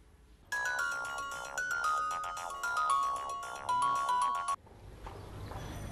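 A mobile phone ringtone plays a repeating melodic tune for several seconds while a call goes out, clear and steady, then cuts off abruptly into quiet room noise.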